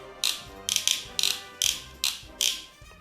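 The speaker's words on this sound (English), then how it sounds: "if I move this little lever from side to side, my soldier will move from side to side, making a machine gun noise." A 40-year-old Mattel Heroes in Action toy soldier gives a rapid mechanical ratcheting rattle as its lever is rocked side to side, seven short close bursts in an uneven rhythm, with no talking.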